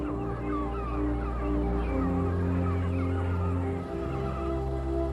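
Seabirds call over a busy arctic inlet where cod schools gather in summer, a steady chorus of overlapping honking and gabbling cries at moderate distance with a low continuous rumble beneath.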